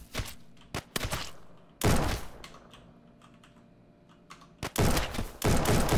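Irregular bursts of gunfire in the video game Ancient Warfare 3 come in several sharp, loud clusters separated by quieter gaps with faint scattered clicks.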